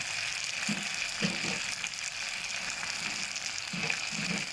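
Vegetables sizzle steadily in a hot pan while being stir-fried for Thai pad see ew with pork and wide rice noodles, a constant crackling hiss with occasional soft stirring knocks.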